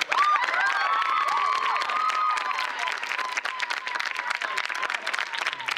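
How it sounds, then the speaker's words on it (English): A crowd at a high school musical applauds the team, clapping mixed with cheers and excited shouts, lively at first and thinning into scattered claps. "Let's give a round of applause for our team."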